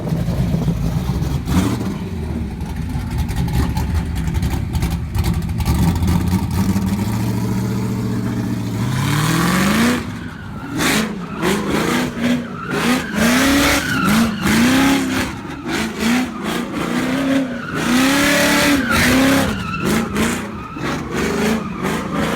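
A Foxbody Mustang with a 347 stroker engine and welded differential drifts, its engine revving loudly and climbing in pitch while tires squeal and slide in repeated wailing bursts.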